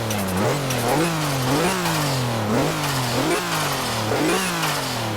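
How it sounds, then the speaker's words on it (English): Modded ZR2 engine in Forza Horizon 4 revving hard under turbo boost, loud and close, with repeated rising and falling pulls and sharp blow-off valve whooshes between them, no talking. "Very loud turbo blow off valve"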